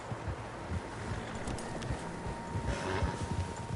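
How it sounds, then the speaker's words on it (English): Several horses' hooves clop steadily over the ground in the video game Red Dead Redemption 2, a continuous rhythmic trotting set against a soft wash of wind. "Horses, quite a few of them."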